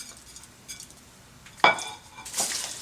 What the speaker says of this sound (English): And now we're going to add our onions. And then our crumbled up bacon strips.